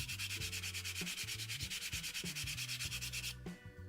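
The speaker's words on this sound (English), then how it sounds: "gave a quick sanding" Rhythmic hand sanding of a wooden mallet made from scrap wood, quick back-and-forth rasping strokes repeating steadily, close and alone.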